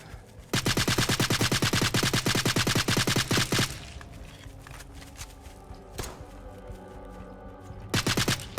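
Rapid automatic gunfire in the video game Night of the Dead, two long sustained bursts of shots, then a quieter stretch with a single sharp report before another short burst starts.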